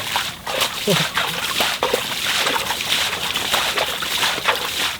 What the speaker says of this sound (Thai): น้ำไหลออกมา